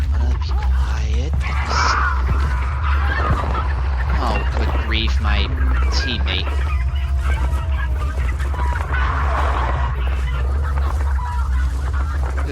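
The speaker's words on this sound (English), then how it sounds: "more chickens." Chickens squawk and cluck in frantic bursts in Hunt: Showdown, set off as sound traps, with someone talking over the noise.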